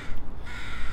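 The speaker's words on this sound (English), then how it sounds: "we got that lovely little crow squawking at me" A crow squawks once nearby, a loud, harsh, raspy caw lasting about a second.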